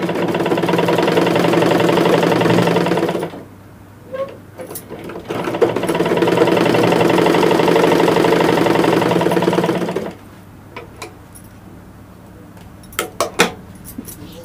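A tailoring sewing machine stitches fabric in two loud, steady whirring runs of a few seconds each, with quiet clicks and handling noises between and after them.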